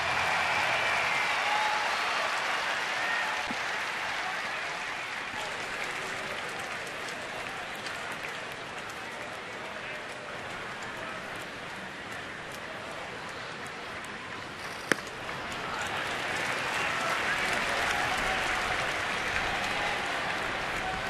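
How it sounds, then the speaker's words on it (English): A baseball stadium crowd at a Milwaukee at Washington game cheers and claps steadily as fans rise on a two-strike count, a broad sustained roar that dips midway and swells again, with one sharp knock near the end. "Crowd into it tonight. Listen to them getting on their feet."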